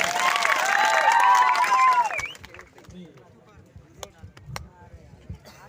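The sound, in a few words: loud applause from the audience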